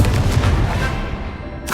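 A fire spell cast in the game Hogwarts Legacy bursts out as one loud, booming blast with a rushing roar that fades over under two seconds, followed by a short bright flick at the end.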